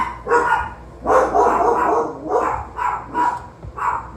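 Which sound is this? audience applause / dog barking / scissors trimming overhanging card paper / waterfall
dog barking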